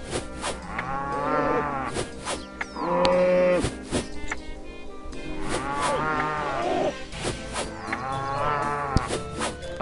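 Cows in RuneScape moo repeatedly, several drawn-out lowing calls overlapping over a steady game backdrop, fairly close and loud with no talking.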